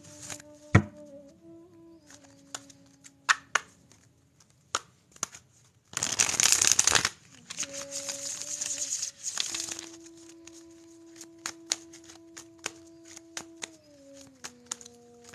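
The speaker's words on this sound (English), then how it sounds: "Right now, we are shuffling these cards for my Virgo babies" Tarot cards are shuffled in quick riffling bursts with soft taps and rustles, including one louder, sustained shuffle in the middle; no talking.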